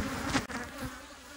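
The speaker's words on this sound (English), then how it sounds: "Let's smoke these bees a little bit." Honey bees from a large hive colony buzz in a dense, steady drone close by, with a brief dip in the middle and no voices.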